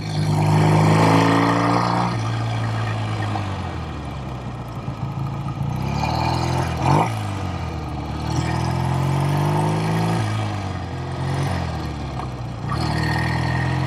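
A 1969 BSA Thunderbolt 650 twin motorcycle engine under way, a loud steady drone that rises and falls as the rider shifts and pulls, continuous throughout with wind rush and no talk.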